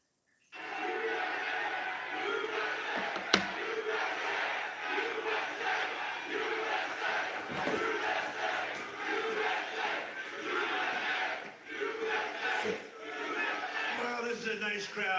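A large crowd at an indoor Trump rally on a freezing night roars and chants in a steady, rhythmic swell, loud and continuous throughout, with one sharp bang near the start and shouts rising over the din.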